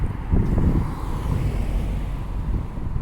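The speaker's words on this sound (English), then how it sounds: "Got a little bit of a breeze blowing here" A steady breeze blows outdoors on a street in Halifax's South End, producing a continuous low rumble of wind buffeting against the microphone with no voices.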